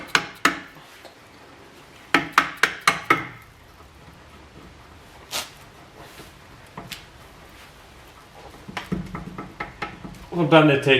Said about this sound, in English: use a soft hammer and tap the bolts out